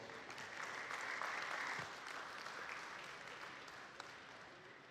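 A crowd at a New Zealand dairy cattle show applauds a second-place cow, a faint, distant wash of steady clapping lasting several seconds and slowly easing off.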